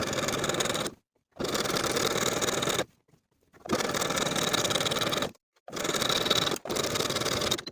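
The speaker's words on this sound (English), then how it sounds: "top stitch in place with that same triple zigzag stitch" A sewing machine top-stitches elastic onto scrap-fabric undergarments with a triple zigzag stitch, running in four steady bursts separated by short silent pauses, close and fairly loud.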